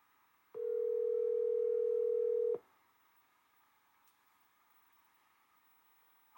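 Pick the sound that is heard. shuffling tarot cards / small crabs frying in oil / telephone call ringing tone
telephone call ringing tone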